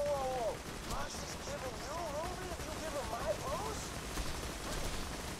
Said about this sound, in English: I'm shooting you now.